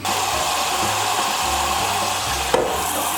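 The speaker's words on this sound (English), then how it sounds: "we're gonna fill this with water and put the peeled potatoes into this" Tap water runs steadily into a cooking pot for boiling peeled potatoes, a constant close rushing splash with a brief clunk near the end and no talking.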